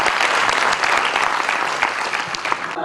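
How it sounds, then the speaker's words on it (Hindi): Sustained audience applause fills the whole stretch at a Sanskrit poetry and cultural gathering, dense steady clapping from a sizeable crowd, loud and continuous with no talk over it. "तो आप सब करतल ध्वनि से इस बात का स्वागत करेंगे।"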